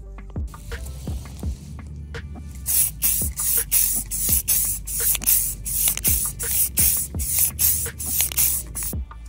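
Repeated bursts of spray paint hiss as gloss black is applied to parts of a 5th-generation Honda VFR800 motorcycle, about a dozen short even sprays in steady rhythm, close and fairly loud after a quieter start.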